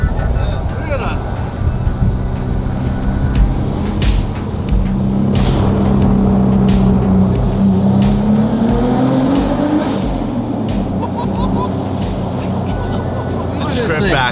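Toyota Hiace van fitted with an R35 GTR engine, driven at night in Tokyo, pulls hard with a rising engine tone that climbs and then eases, heard from inside the cabin with people talking and exclaiming.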